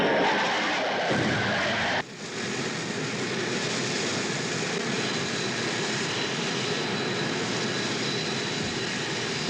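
Blue Angels jets streak past at more than 500 miles per hour above a flight line, a loud, sustained jet roar that shifts abruptly after a couple of seconds and keeps rushing steadily with no voices.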